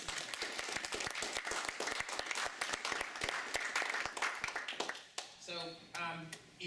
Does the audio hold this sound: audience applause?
yes